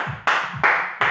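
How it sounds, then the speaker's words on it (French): Several bursts of hand clapping from a small group finishing a home workout session, each burst starting sharply and fading, close and loud with no talking. "Applaudissez-vous encore une deuxième fois."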